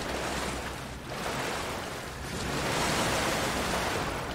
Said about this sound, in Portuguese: Olha as ondas. Que tempestade louca,